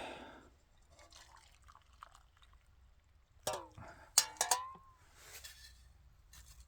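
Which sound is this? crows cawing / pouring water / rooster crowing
pouring water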